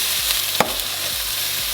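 Broccoli frying in olive oil in a pot gives a loud, continuous sizzle, broken by a single scrape of stirring near the start, with no talking.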